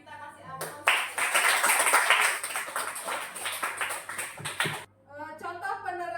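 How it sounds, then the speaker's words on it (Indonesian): Applause breaks out at a school performance assessment in Denpasar: a dense burst of many hands clapping for about four seconds, fading out, with voices talking before and after. "Ya, kita kasih aplaus."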